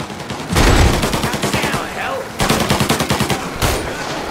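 Gunfire from the video game Mafia Definitive Edition erupts in loud bursts of rapid automatic shots, pauses briefly and then resumes with another volley, with some faint voices underneath.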